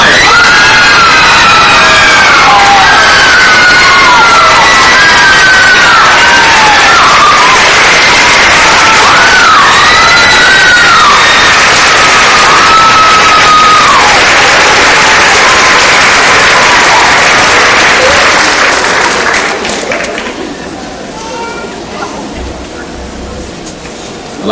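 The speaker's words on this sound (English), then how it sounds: "And now, a big round of applause. Lots of screaming, lots of yelling for our 2003 Miss Strassenfest Queen" A large crowd at the 2003 Miss Strassenfest pageant cheers, screams and applauds loudly for the newly crowned queen, with whoops rising above the roar before it fades out near the end.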